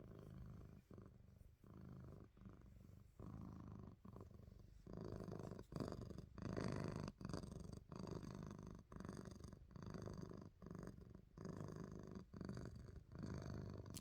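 A house cat purrs close to the microphone, a soft, steady rhythmic rumble that pulses with each breath, quiet and continuous with no talking.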